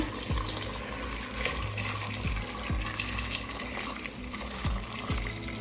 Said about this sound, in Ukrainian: І зараз це треба все залити гарячою водою.